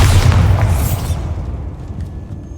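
In the Hogwarts Legacy video game, a Bombarda spell sets off a loud, close boom with a crackling burst. The blast fades into a decaying rumble over a couple of seconds.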